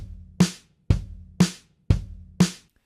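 A BandLab drum beat loop repeats five even hits about half a second apart, each a sharp punchy thump with a bright crash, loud and close with no voices.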